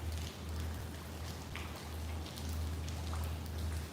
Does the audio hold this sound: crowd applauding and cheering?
no